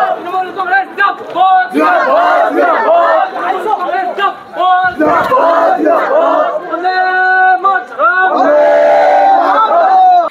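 Loud crowd chanting election victory slogans in rhythmic unison at a Trinamool Congress win celebration in West Bengal, voices rising in repeated call-and-response waves.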